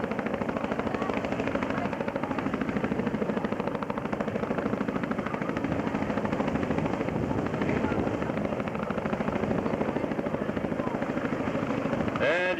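CH-113 Labrador search-and-rescue helicopter of 442 Squadron hovering at a 1990 air show in Comox, its rotor chopping in a loud, continuous rhythmic thrum throughout, with a brief higher whine near the end.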